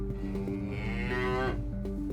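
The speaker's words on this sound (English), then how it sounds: "Paramedic Dan and Special Sergeant James have located the cow causing havoc around Kent's roads" A loose cow on the roads near the North Kent coast lets out one long, loud, drawn-out moo that swells in the middle and fades at the end, heard close up with no one talking.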